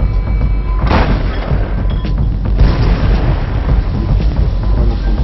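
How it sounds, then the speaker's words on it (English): Artillery shells bursting beside a target warship at sea, heavy booming blasts with rumbling low-end and a sharp burst near the start, loud and continuous with no talk. "The shells explode beside the target"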